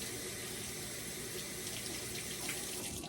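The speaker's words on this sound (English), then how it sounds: "I'm going to rinse my hands real fast" Hands rinsed under a running kitchen tap after handling raw chicken: a steady, close rush of water that carries on evenly throughout.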